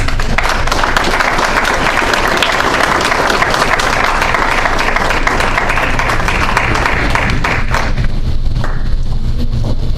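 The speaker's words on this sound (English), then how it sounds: "Ms. Mullins, give her a round of applause" Loud, dense applause from an audience at a college soccer showcase information session, a continuous wash of many hands close to the microphone that eases off near the end.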